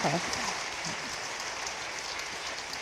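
An audience claps for four performers at the close of a presentation: a steady, fairly faint wash of applause with a murmur of voices mixed in.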